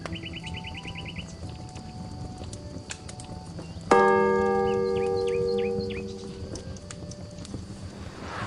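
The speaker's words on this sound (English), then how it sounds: "The bell tolls once, its sound heavy and slow, carried on the chill autumn air." A single heavy church bell strikes once in a quiet village and rings on with a long, slow decay, while horse hooves clip-clop and small birds chirp faintly in the background.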